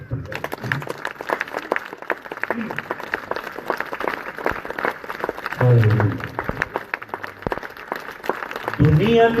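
A church congregation claps for Jesus Christ with dense, continuous hand-clapping spread across the room, mixed with voices and brief shouts as the applause rolls on.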